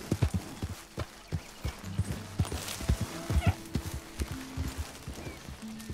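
A horse in Red Dead Redemption 2 clops along with irregular hoofbeats on the ground, then gives a drawn-out whinny and a couple of shorter neighs, close and moderately loud.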